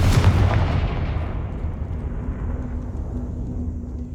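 A heavy booming blast from a Confringo fire spell in the video game Hogwarts Legacy, with dense rumbling low end and a long fading tail. It is loud and close, with no speech.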